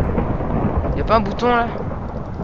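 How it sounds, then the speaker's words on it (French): A thunderstorm in a survival video game, with low rolling thunder and steady rain noise. Someone speaks briefly over it in French partway through. "il y a des orages, j'ai peur"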